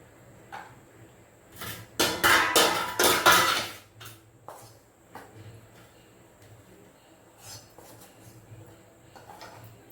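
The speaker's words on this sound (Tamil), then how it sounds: "இனிமேல் எடுத்து ஒரு பிளேட்டில் கொட்டிடுவோம்" Roasted ragi flour scraped and poured from a pan onto a plate, a loud cluster of metallic scraping and clattering for about two seconds, then quieter clinks and knocks with a brief voice.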